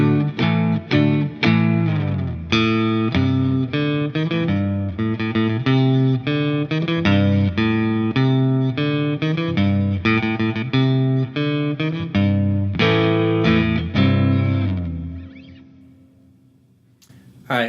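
A 2005 Jimmy Page Number One Gibson Les Paul Custom electric guitar plays a steady run of plucked chords and notes on a clean tone, loud and close, ending in a long decaying ring.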